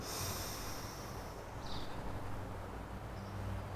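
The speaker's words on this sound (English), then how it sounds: "Deeply inhale" A slow, deep breath drawn in through the nose during a seated chair yoga session, a soft airy hiss close to the listener with no talking over it.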